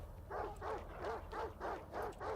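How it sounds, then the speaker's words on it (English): Dogs in a video game bark in a steady run of about six evenly spaced barks, moderately loud over a low background rumble and with no talking. "You see how the dogs are barking at me"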